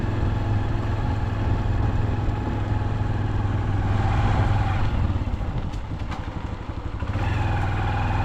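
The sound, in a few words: motorbike being ridden slowly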